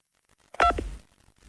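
A single short telephone keypad tone sounds from pressing key 2, one clear beep in an otherwise quiet line.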